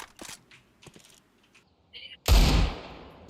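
A sudden loud, sharp burst from a taser firing in a video game, preceded by scattered soft clicks and taps.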